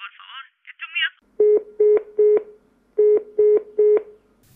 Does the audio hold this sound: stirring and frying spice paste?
no